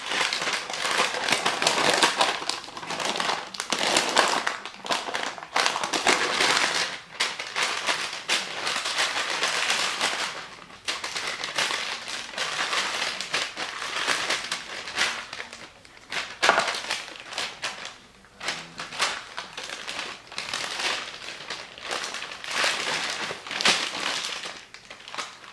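A large homemade bull's eye candy roll is rolled up by hand, giving continuous close crinkling and crackling with irregular bursts and brief pauses for about twenty-five seconds.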